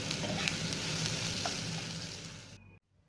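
Thin sliced onions frying in mustard and refined oil in a wok for biryani, an even close sizzle with soft stirring, fading away before cutting to silence near the end.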